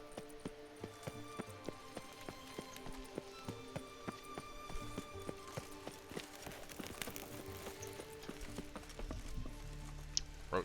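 Roach, the horse in The Witcher 3 game, galloping with a quiet, even beat of hooves that runs steadily through, faint and close, with a soft whinny near the end.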